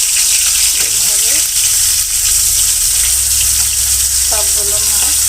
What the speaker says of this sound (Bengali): কড়াইতে তেল গরম বসিয়ে দিয়েছি। দেখতেই পাচ্ছেন এখন মাছগুলো ভেজে নিচ্ছি।